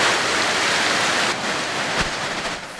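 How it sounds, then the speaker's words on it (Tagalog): Heavy rain pours down in a dense, continuous hiss of drops beating on surfaces around a school ground, steady and loud with no voices. "Habang naroon kami, bumuhos ang malakas na ulan."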